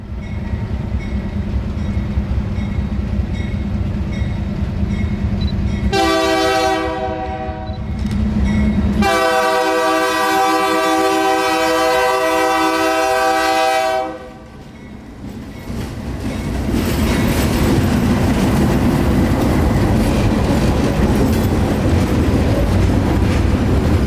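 A freight train hauling rock loads departs a yard, rumbling steadily as a loud, multi-tone horn sounds twice in long blasts, then the heavy rolling rumble continues.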